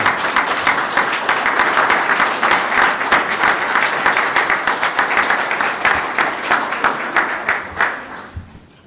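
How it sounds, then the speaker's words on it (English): An audience at a school board meeting gives the board members a long, loud round of dense applause that carries steadily for several seconds before tapering off at the end. "Let's give each and every one of them one more big round of applause"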